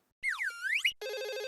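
A telephone rings with a bright electronic ringtone: a warbling sweep of tones followed by a steady repeating buzz-like pattern, clear and alone.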